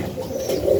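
A young tippler pigeon cooing indoors, a low soft throaty coo, close and fairly loud, building toward the end.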